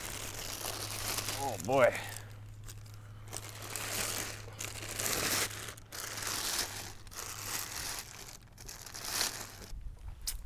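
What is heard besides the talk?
plastic wrapping crinkling while unboxing an electric longboard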